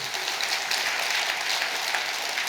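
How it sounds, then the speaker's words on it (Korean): Steady applause from a crowd at a Buddhist dharma assembly at Bongeunsa temple, dense continuous clapping with no break for the whole stretch. "이때 박수 쳐야 돼."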